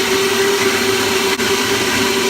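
A blender whirs steadily as it mixes a green drink shake base, a loud continuous motor whine with a single brief dip partway through.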